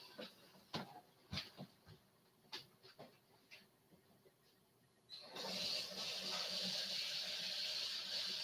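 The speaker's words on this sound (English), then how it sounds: "I'm going to go rinse the top of this off" Tap water runs over the top of a whisky bottle, starting as a steady, fairly close rush of splashing after a few soft taps and knocks, then continuing evenly to the end.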